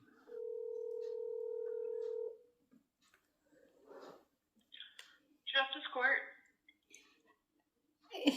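A telephone call being placed: a steady dial tone for about two seconds, then scattered short beeps and clicks, followed by a voice talking.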